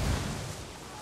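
A frag grenade goes off in Ghost Recon: Wildlands: one heavy, low boom at the start that rolls off into a dull rumbling tail over about a second.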